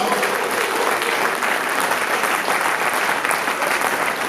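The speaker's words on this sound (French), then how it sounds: "Si vous avez aimé la discussion rappée, du bruit pour Pat Mérite et Chica M." A crowd at a live show applauds loudly and steadily, a dense wash of clapping that fills the whole stretch without pause.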